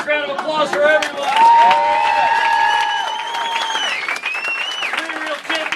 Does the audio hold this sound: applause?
yes